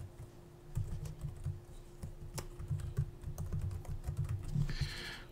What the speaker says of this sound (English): You can just type in an email address.